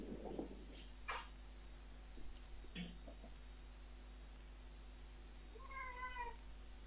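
A cat meows a few times at moderate distance, short mewing calls amid faint background noise and a steady electrical hum, with a brief stretch of rising tonal cries near the end.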